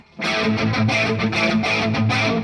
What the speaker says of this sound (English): just a crunchy sound on the JCM 800 with a bit of chorus.